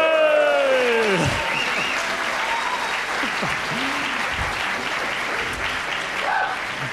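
A conference audience claps in a dense, sustained burst of applause filling the room, with a few whistles and cheers mixed in.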